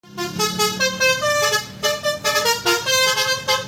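A series of loud, harmonic horn toots and blasts, several overlapping tones sounding in quick succession with no talking.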